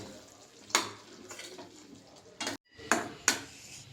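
Fried paneer pieces tipped into gravy in a cooking pan, giving a few sharp clattering knocks of utensil against pan spaced over a few seconds, with a soft low bubbling background and no voices.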